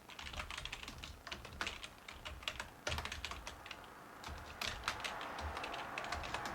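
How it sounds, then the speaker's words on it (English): Rapid clacking keystrokes on a computer keyboard during C++ coding, close and clear, in uneven bursts with short gaps between them. "let's type it in."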